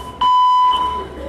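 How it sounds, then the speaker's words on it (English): A fire alarm test in a busy kitchen sounds as a loud, steady electronic tone for about half a second, then drops to a softer continuing alarm over background hum. "So we've got our fire alarm testing today"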